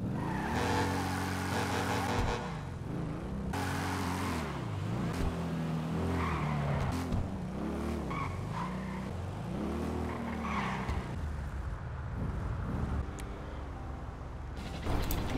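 A motorcycle in the GTA 5 video game, its engine revving and rising and falling in pitch as the tires skid and squeal, loud and continuous throughout with no talking.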